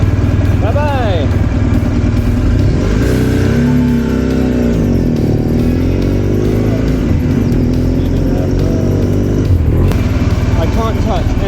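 A motorcycle rides along a road in very hot weather, its engine droning steadily and loudly with rising and falling revs under constant wind noise, with a voice talking over it.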